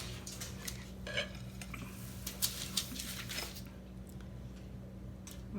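A knife cuts through a giant cookie, giving faint, close scraping taps and soft clicks that come irregularly over a low steady room hum.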